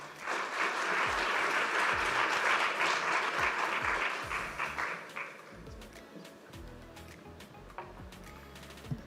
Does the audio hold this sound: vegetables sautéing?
no